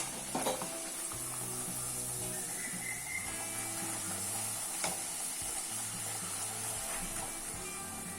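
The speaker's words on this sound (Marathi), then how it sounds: "आता एक एक तळूया ना. तेल तापलेलंच आहे." Puris frying one at a time in hot oil make a continuous bubbling sizzle with crackles, moderately close and steady, with a few faint clinks of a utensil and no talk.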